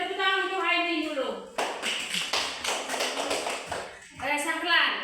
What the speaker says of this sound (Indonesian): Tepuk tangan untuk Haini dulu